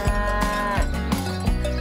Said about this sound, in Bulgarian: Това е крава.